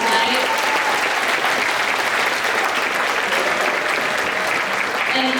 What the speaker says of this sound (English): Can we give them a round of applause for the food tonight?